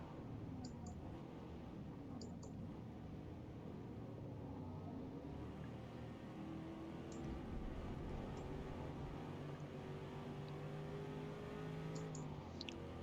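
A race car drives through rain in a Forza racing game, with a faint steady engine drone and tire hiss running continuously under someone talking.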